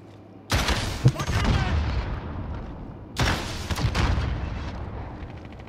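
Two heavy bursts of video game gunfire crash in a few seconds apart, each a dense volley of loud shots that trails off into rattling echoes.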